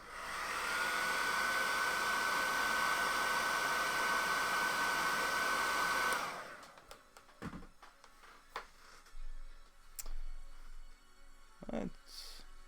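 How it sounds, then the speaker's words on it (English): A hair dryer blows steadily and close for about six seconds while drying paint on a Nurgle-themed chaos lord miniature, then cuts off, leaving faint handling clicks and taps. "Let's use the hairdryer once more."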